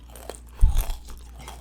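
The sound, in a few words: crunchy biting and chewing of Chinese food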